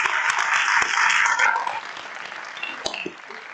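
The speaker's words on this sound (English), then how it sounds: "Can I get a round of applause for Tom?" Audience applause at a live film jam event in Eindhoven, a dense burst of clapping that fades after about a second and a half into lighter scattered claps.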